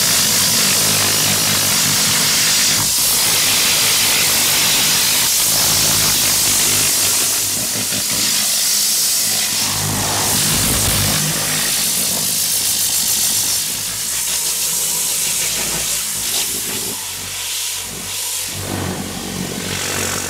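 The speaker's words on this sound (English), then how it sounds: "we're gonna blow it out with the Tornador next" Tornador air cleaning gun blasting out a dirty Mercedes GLE interior, a loud continuous hiss of compressed air that surges and wavers as it is moved around, with no talking.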